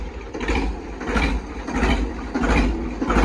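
A farm tractor engine idles steadily at close range, a low rumbling drone with rhythmic pulsing swells, heard alone without talk.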